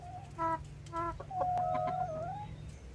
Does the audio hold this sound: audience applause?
no